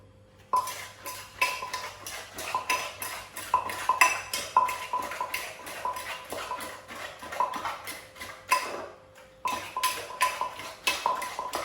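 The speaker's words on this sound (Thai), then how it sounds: "ได้ยินเสียงคกแล้วคือเหมือนจะนัวนะคะ" Steady, rhythmic pounding in a clay mortar while making spicy Thai cucumber salad with squid, a close series of knocking thuds with a short pause before the pounding resumes.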